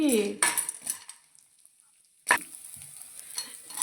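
Homemade protein powder ingredients frying in a spoonful of oil in a pan, a close hissing sizzle with utensil scrapes and stirring, fading briefly before another clatter and renewed sizzling.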